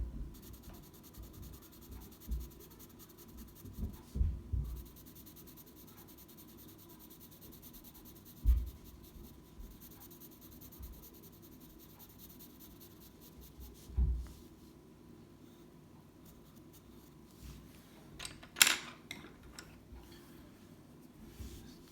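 A B graphite pencil scratches across paper in quiet, uneven strokes, soft close rubbing broken by a few sharper taps and pauses, with no voices.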